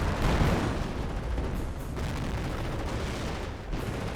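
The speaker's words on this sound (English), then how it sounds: "There's a double creeping barrage in this region." Heavy artillery barrage in a strategy war game, a dense, continuous roar of distant explosions rumbling together with occasional louder bursts, steady and loud throughout.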